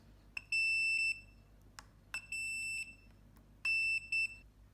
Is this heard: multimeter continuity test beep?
yes